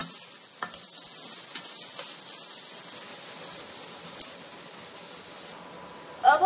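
Manchurian gravy with added sugar and Yippee taste maker being stirred in a pan, a steady sizzling hiss with soft scraping taps throughout and a sharp clatter at the end.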